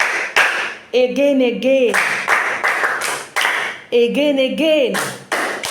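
Students in a language class clap their hands in short sharp bursts, several separate rounds spaced across the moment, alternating with a voice talking between them.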